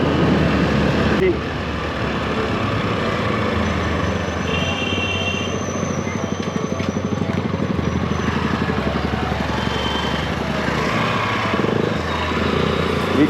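A motorcycle rides on a rural road, its engine a steady rumbling drone with a rapid pulsing throb throughout, alongside wind noise and occasional faint chirps, while people talk.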